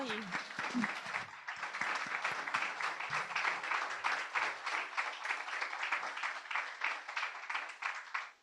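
Audience applause after a talk on ChatGPT, dense steady clapping from a room crowd that starts with a brief voice and then runs on evenly for several seconds before tapering.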